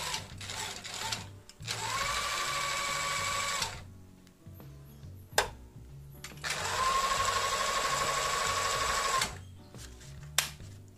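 A freshly oiled Singer sewing machine runs in two steady whirring bursts of a few seconds each, with clicks and short pauses between, no talk.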